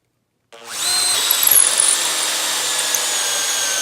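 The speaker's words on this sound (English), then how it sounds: "We'll start with the XPH10, the brushed drill, with a hole saw into some 3/4 inch plywood." A Makita XPH10 brushed cordless drill on drill mode spins up and drives a hole saw into 3/4 inch plywood, with a loud, steady motor whine and cutting rasp that continues to the end.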